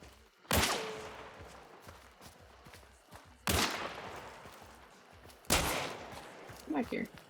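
Three loud, sharp gunshots in a video game, spaced a few seconds apart, each with a decaying echo tail, over a quiet background of faint game ambience and small shuffling sounds.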